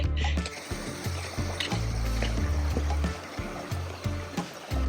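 A river flowing beside a forest hiking trail in Washington, a continuous rushing wash of water close by, with uneven low thumps and knocks over the top.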